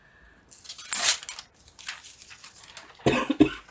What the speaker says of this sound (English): Next thing I know, I'm coughing and spluttering.